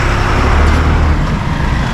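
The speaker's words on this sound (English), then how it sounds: "wait for these cars to go past. It's very loud here in Mumbai, everywhere you go." Loud, continuous street traffic in Mumbai, India, with the low rumble of engines as vehicles pass close by, no voices.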